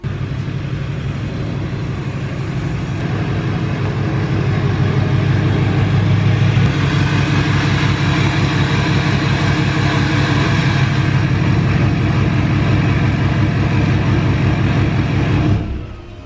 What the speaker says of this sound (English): we're gonna go ahead and grab the truck and back her up right here.